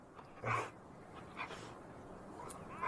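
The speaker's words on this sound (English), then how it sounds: "The dogs always stay up here during lambing." A dog whimpers and yips softly in short bursts, faint and a little distant over a quiet background, during lambing season on a farm.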